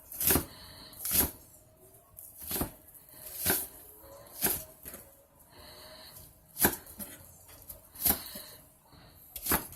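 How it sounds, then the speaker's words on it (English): A knife chops scallion on a cutting board with about a dozen sharp, close knocks spaced roughly evenly, with brief pauses between cuts. "You cut up the scallion like this,"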